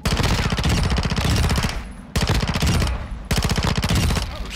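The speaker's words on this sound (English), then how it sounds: "Those shotguns are brutal." Gunfire in Warzone 2.0, heard as loud, rapid bursts of shots in three close runs separated by brief pauses, harsh and dominant with no talking over it.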